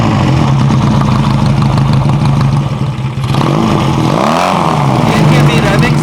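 A custom 250cc bobber motorcycle with a homemade exhaust idles loud and close, with a steady mid-pitched engine drone and a brief throttle blip near the middle.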